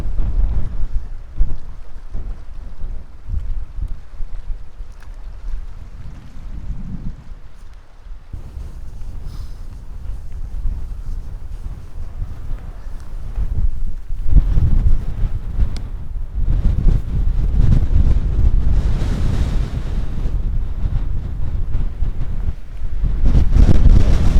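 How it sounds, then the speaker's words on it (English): Strong wind buffeting the microphone in gusts on a Cairngorms hike in Scotland, a heavy roaring rumble that swells louder toward the end, with no voices. "Just so windy here."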